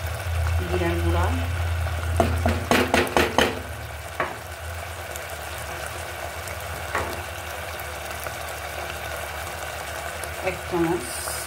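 Ground spices sizzle in a pan for a chicken curry, a steady frying hiss under a voice with a few clattering stirs near the start and occasional light scrapes.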